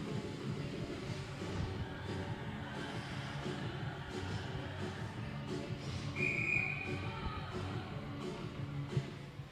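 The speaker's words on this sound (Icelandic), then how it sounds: "Og það var flauta." A referee's whistle gives one short, thin blast partway through at a women's league ice hockey game, faint and distant over steady arena crowd murmur.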